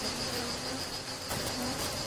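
Bees buzzing as they leave their hive, a steady continuous drone with a high insect-like whine throughout, alone and fairly close.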